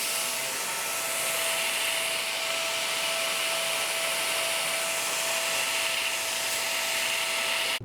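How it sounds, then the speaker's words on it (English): A cleaver is ground on a power grinder in a blacksmith's shop, a loud continuous whirring roar with a steady abrasive hiss that cuts off abruptly at the end, no talking. "But you grinding a cleaver?"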